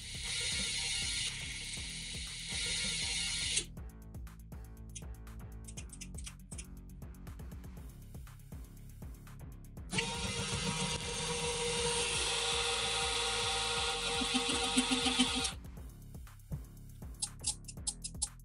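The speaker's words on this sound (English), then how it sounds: "You can see how this linear actuator and its limitation system works well." A homemade relay-controlled linear actuator runs in two long buzzing, grinding motor stretches, separated and followed by clicking, ratcheting mechanical movements, close and fairly quiet.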